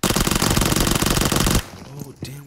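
Enemy shotgun blasts in the game PUBG Mobile, a dense rapid burst of loud gunfire for about a second and a half, then cut off to quieter background with a couple of short tonal game sounds.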